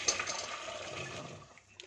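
Hot water from boiled cauliflower pours through a strainer in a home kitchen while pakoras are being made, a steady, rushing splash that slowly tapers off.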